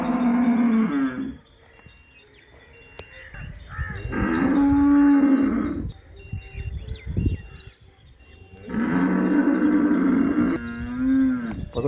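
Several cattle moo loudly in a cattle shed in a rural village, long drawn-out lowing calls repeating in clear bursts, with faint bird chirps in the background between the calls.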